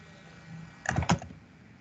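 A couple of quick keystrokes on a computer keyboard, two close, crisp taps in a row against a quiet background, with no one talking.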